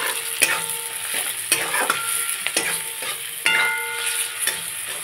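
Onion, nigella seeds, slit green chili and turmeric sautéing in a pan, a continuous sizzle punctuated by several sharp scraping knocks of a spatula stirring the mixture.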